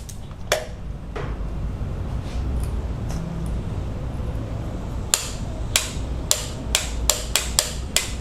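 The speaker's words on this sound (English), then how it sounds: "Once you start applying pressure guys, and you reach the torque, you set it out, it's going to click" A click-type torque wrench tightening a spark plug on a Jeep 2.4 engine gives a run of sharp, close metallic clicks that come faster near the end, over steady low background hum.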